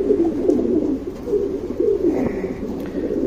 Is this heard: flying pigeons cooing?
yes